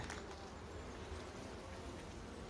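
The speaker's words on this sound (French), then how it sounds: "Cadre de réserve, beaucoup d'abeilles." Soft, continuous buzzing of many honeybees crowded on a reserve frame lifted from a hive, a close, even hum with no voices over it.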